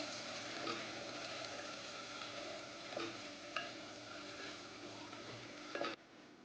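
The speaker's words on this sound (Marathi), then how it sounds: "आणि आता ते तेलामध्ये आपल्याला वाटण टाकून घ्यायचं आहे. मिश्रण चांगलं मिक्स करून घ्यायचं आहे." Ground masala paste is stirred in hot oil for a dhaba-style chicken handi curry, giving a faint, steady sizzle broken by a few soft spoon scrapes against the pot, with no talking.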